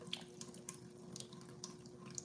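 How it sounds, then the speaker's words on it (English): Cold tap water running steadily into a kitchen sink to rinse cooked noodles, a continuous splashing hiss with small splatters and a faint tonal hum, close and fairly quiet. "I will rinse the noodles in cold water as to stop the cooking process."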